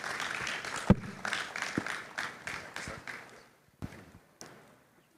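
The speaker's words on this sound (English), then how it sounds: "Please, another round of applause" A round of applause at the Nigeria Manufacturing & Equipment and Nigerian Raw Materials expo 2025 keynote session, with a modest audience clapping that fades out within about three seconds, leaving a few scattered claps.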